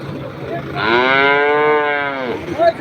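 A cow at a busy city cattle market lets out one loud, drawn-out moo lasting over a second, close to the microphone, with murmuring market noise before and after.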